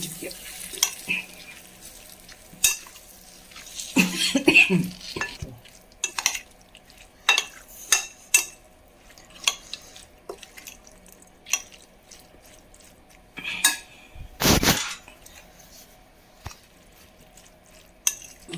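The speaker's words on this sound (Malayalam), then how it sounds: "നന്നായി ഇളക്കി യോജിപ്പിച്ചിട്ടുണ്ട്" An onion pickle mixture is stirred in a pan, with intermittent scraping strokes and a light sizzle. A louder burst of clattering comes near the middle and another toward the end, heard close with quiet gaps between.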